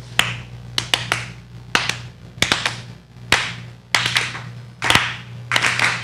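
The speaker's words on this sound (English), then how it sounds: "So we're going to clap and skip together." Group clapping hands while skipping together, sharp bursts of several claps in loose rhythm, close and loud, separated by brief pauses over a low steady hum.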